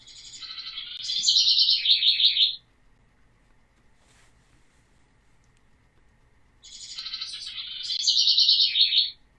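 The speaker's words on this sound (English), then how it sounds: "that is a house wren" Two bursts of a house wren's bright, bubbly warbling song, each about two seconds long and separated by a few seconds of quiet.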